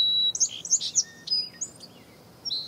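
A green magpie call plays from a small speaker outdoors as a burst of sharp, high chirps and whistles, followed by a pause and a single clear whistle.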